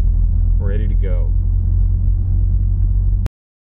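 Race car at a grudge race event idling with a deep, steady, close engine rumble as it pulls in to park. A voice talks briefly over the engine before the sound cuts off abruptly.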